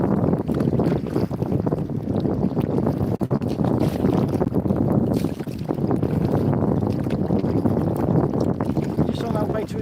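A small fishing boat's petrol outboard engine runs steadily on a tidal channel near a bridge, a continuous close drone mixed with wind buffeting the microphone and water noise, with someone talking over it.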